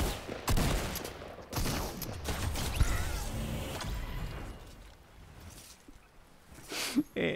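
Gunfire in the Fortnite video game: bursts of shots and rapid fire crackle across several seconds, mixed with other game sounds and people talking over the action.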